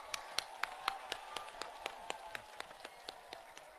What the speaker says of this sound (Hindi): आप सभी लोग परम आदरणीय बहन जी का तालियों की जोरदार गड़गड़ाहट के साथ में स्वागत अभिनंदन करेंगे।